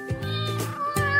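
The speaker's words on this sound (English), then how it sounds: "Meow." A cat meows twice in quick succession, close and clear, with tonal, drawn-out cries and no talking over them.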